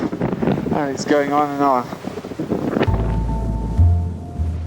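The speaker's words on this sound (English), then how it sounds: "it's bloody windy, loads of spindrifts and very cold" Strong wind roars across an Everest mountainside thick with spindrift in bitter cold, buffeting the microphone with low rumbling gusts while a person talks over it.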